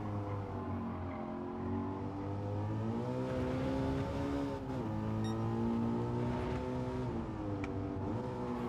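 Engine note of a car in Gran Turismo 7 during a license test, a steady loud drone held in one gear with pitch shifts as revs rise and fall, running continuously with no talk.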